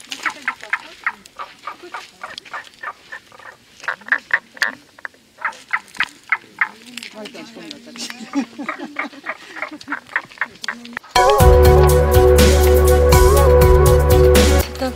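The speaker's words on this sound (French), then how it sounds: "Des grenouilles. Vous entendez le bruit?" Frogs croaking by a fountain at a hilltop temple in Kyoto, a loud, rhythmic chorus of repeated croaks that is suddenly cut off near the end by a harsh, loud burst of noise.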